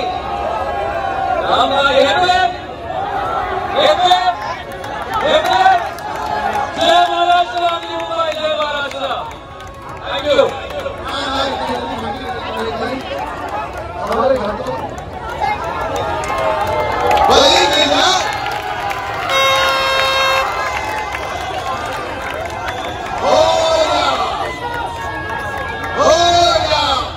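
A large, dense crowd at a family outing: a continuous hubbub of many voices and close-by chatter rises and falls, with people talking throughout.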